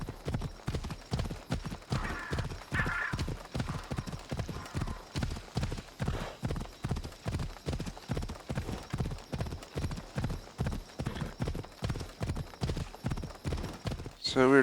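A horse trots along a road in Assassin's Creed Odyssey, its hooves clip-clopping in a steady, even rhythm for the whole stretch, close and clear, with a short noise at the very end.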